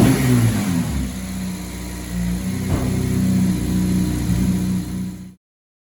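A Honda Civic Type R FN2 with a CPL induction kit and aftermarket manifold revs loud and close in an enclosed space, holding a steady high engine note with one brief dip before cutting off abruptly.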